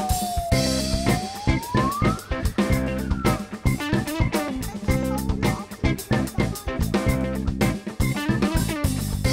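A small fire engine's siren wails and sweeps upward in pitch near the start, set against loud, bouncy background music with a steady beat.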